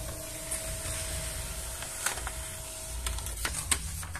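An HP LaserJet M102w laser printer runs a test page: a low steady mechanical hum with a faint whine, then a series of soft clicks and clatters from the paper feed toward the end, fairly quiet with no talking.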